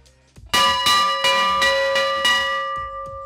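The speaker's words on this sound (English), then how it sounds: "When you said ring the bell, I didn't know there was a real bell right there." A real bell struck several times in quick succession at a match, ringing loud and close with bright sustained tones that overlap and slowly decay, no talking over it.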